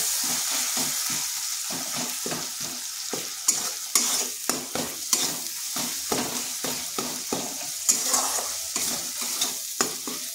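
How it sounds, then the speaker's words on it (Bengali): Ground turmeric, cumin, coriander and chili powder sauté in a pan for homemade paneer curry, a steady sizzle broken by a regular run of scraping spatula strokes, close and fairly loud with no talk. "এরপর বেশ ভালো করে মশলাটাকে কষিয়ে নিতে হবে।"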